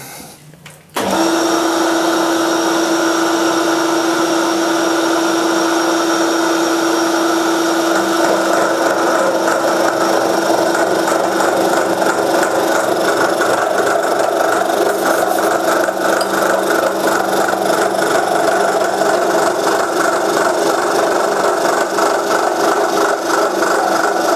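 A machine tool cuts into steel on a metal-stand build, running loud and steady after a sharp start, with a constant whirring drone and a sustained tone throughout, no talk.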